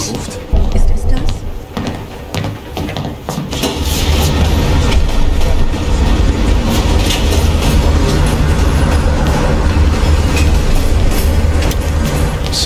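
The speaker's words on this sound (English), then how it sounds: "Train's slowing down." A train rolling along rails in the game Call of Duty Black Ops Cold War makes a steady, loud rumble with rhythmic rail clatter that swells after a few seconds and continues. Voices speak over it.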